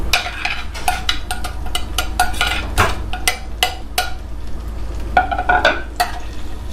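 Chopped garlic fries in a spoonful of oil in a pan, a steady close hiss and crackle with a utensil repeatedly stirring and scraping against the pan.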